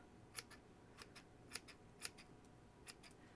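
Scissors snip loose yarn strands off a crocheted hat, several faint, quick clicks in an uneven rhythm, close but quiet, with no talking.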